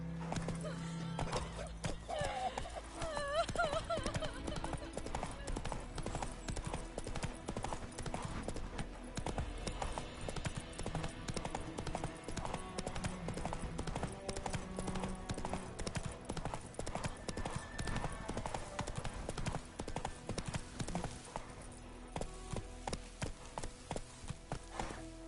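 Roach the horse gallops in The Witcher 3 video game, hooves clip-clopping in a fast steady rhythm with occasional whinnies, game music and a voice urging the horse on underneath.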